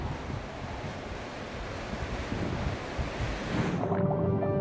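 Ocean waves on a South Australian beach roar as a continuous, loud wash of surf with steady broadband rush and wind, ending in a brief tonal hum.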